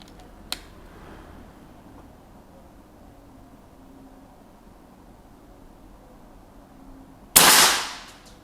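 Long stretch of quiet background hiss, then a single sharp, loud air rifle shot near the end that decays quickly; a faint click sounds early on. The rifle is fitted with a telescopic sight.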